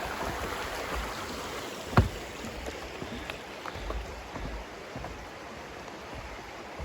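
Wind River stream running beneath a small footbridge, a steady broadband rush of flowing water close by, alone with a brief sharp knock near the middle.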